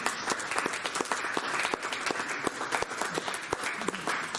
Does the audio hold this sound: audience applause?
yes